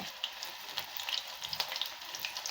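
Ragi-flour pakoda batter sizzles and crackles in hot oil, with steady frying hiss and scattered sharp pops close by.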